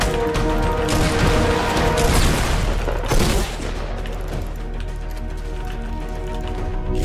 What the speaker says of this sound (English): somebody's trying to explode this all